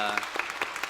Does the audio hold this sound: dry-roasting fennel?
no